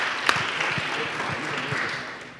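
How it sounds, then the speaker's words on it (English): An audience applauds state representatives at an evening civic gathering, with steady, moderately loud clapping and some voices mixed in throughout. "So please give a big round of applause to our state representatives."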